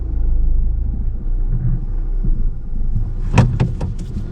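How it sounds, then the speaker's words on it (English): A 2024 Mazda 2 drives along with a steady low engine and road rumble up close, then a few brief sharp knocks and clicks from inside the cabin near the end. "let's start driving with the car"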